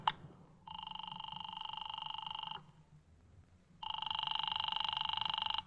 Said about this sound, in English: Oh, Walt, do you mind if I use your phone?